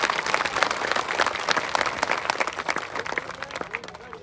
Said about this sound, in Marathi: सर्वांनी टाळ्या वाजा राजा हो